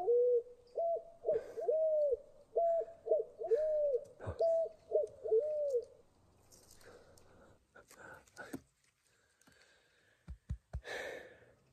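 A pigeon coos nearby in a rhythmic series of soft, hollow calls for several seconds. Its cooing gives way to rustling, knocks and a person talking.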